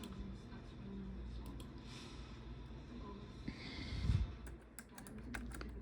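Numbers being entered on a computer keyboard: faint, scattered key clicks, quicker toward the end, over a steady low background hiss.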